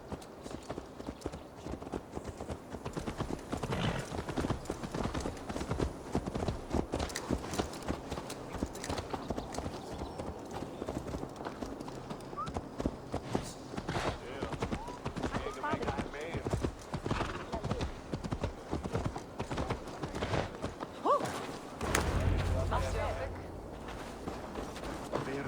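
A horse's hooves clip-clop steadily in Assassin's Creed Valhalla as the mount is walked back, with a whinny along the way and voices talking over the rhythmic hoofbeats.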